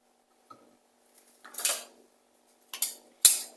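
Utensils clink and scrape against a bowl while crab stick salad with parsley, spicy dressing and lemon juice is stirred, coming as a few short bursts of clatter separated by quiet pauses, close by.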